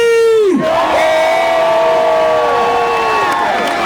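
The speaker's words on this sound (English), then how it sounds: "So can y'all give applause for Jimmy?" A loud crowd at a nighttime party or club show roars and cheers for a performer, a sustained wall of voices with whoops and shouts filling the whole stretch after a brief opening tone.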